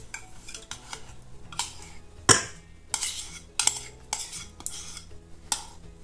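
Room-temperature butter worked into shortbread dough of flour, cornstarch, salt and sugar in a bowl, heard as close spoon clinks, knocks and scraping strokes against the bowl in an irregular rhythm.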